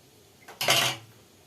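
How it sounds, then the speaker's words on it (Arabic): A ladle stirs homemade yogurt and pours it into cups, giving one short, close metallic clatter and scrape against the pot that fades quickly into quiet. "ادي تقليبه كده بالمغرفه واصب في الكوبايه بتاعتي"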